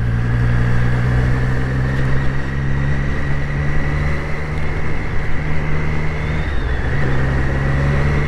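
Triumph Street Triple RS motorcycle engine holding a steady, even drone with a constant tone, with road and wind noise throughout and no one talking.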